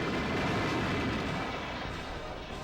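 An in-game explosion in Donkey Kong 64 roars as a dense, sustained rumbling blast that slowly fades over a few seconds, with no voices.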